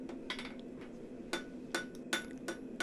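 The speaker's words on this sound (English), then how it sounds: "I'm using both the heel and the toe of the hammer to blend in the various scarves." A hammer forge-welding a poker shaft on an anvil in a gas forge gives about six sharp, ringing metal strikes at uneven intervals, close and loud over a steady low forge roar.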